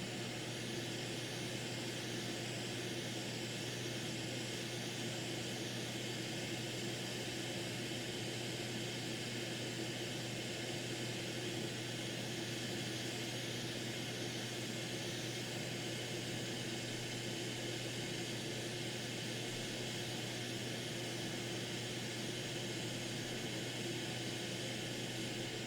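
A Quick 861 Pro high-power hot air station at around 400 degrees blows steadily to desolder a chip from a circuit board, a constant airy whoosh with fan hum that holds unbroken throughout and no talking.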